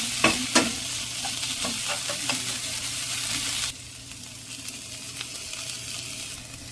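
Ingredients sauté in a pan with a steady sizzle, punctuated by a few sharp scrapes and clinks of stirring early on, then settling into a quieter, even frying hiss.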